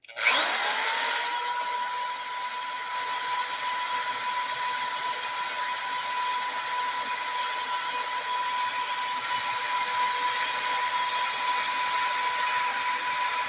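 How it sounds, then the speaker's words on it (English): An electric drill motor whirs steadily at high speed, a constant whining hum that holds for the whole stretch without any voices, while a 32-year-old Heart power inverter is tested. "Now, she's going to hit that drill motor again."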